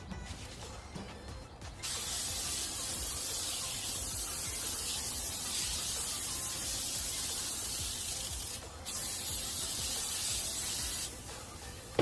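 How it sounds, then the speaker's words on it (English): Oil is sprayed onto hot offset smoker grill grates in a long, steady hiss that runs several seconds, pauses briefly, then resumes, close and fairly quiet. "So the first thing I'm going to do is I'm going to spray my grates."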